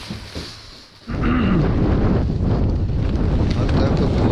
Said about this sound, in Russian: Опять поднялся ветер.